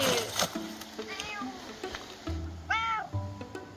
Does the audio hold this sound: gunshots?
no